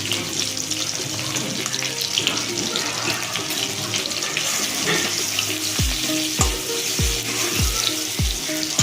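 Spices and dried chillies sizzling in hot oil in a home kitchen as cumin powder goes in, a steady close frying hiss with a few soft metallic clinks from stirring utensils.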